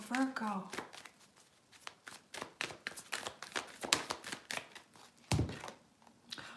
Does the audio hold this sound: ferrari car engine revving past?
no